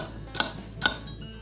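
A knife chops through apple chunks for homemade applesauce, two distinct crisp strikes on a cutting board, close and clear in a quiet kitchen.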